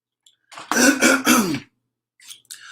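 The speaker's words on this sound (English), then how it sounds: "Let me go ahead and clear my throat" A loud, raspy throat clearing in a few harsh bursts, close up, followed by a brief quieter rasp.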